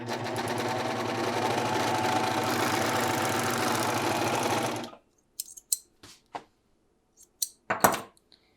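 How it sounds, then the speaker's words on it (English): A serger runs steadily for about five seconds while finishing a fabric seam allowance on a sleeve, a fast, even mechanical whir, followed by scattered light handling clicks and rustles. "I'm going to serge mine like I did for everything else"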